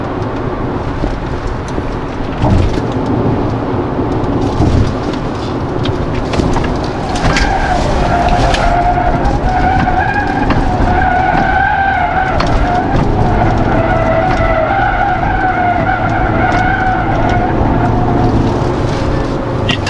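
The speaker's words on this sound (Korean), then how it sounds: "타이어가 소리가 좀 비교적 일찍 나는데, 그렇다고 그 차체가 좀 이렇게 안정을 잃는다거나 그렇진 않네요." Front-wheel-drive 2019 Hyundai Tucson facelift with the Smartstream 1.6 diesel cornering on a track, tires squealing in sustained tonal wails over steady road and engine noise.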